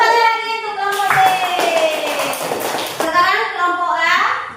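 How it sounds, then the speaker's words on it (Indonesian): A classroom of young pupils claps for group B in a short burst of applause, with children's voices chattering and calling out over and around the claps. "tepuk tangan lagi untuk kelompok B"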